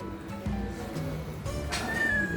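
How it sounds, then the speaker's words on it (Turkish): A kitten meows near a trampoline, a short high cry that rises toward the end over faint background noise, with no talking. "Yavru kedi de burada."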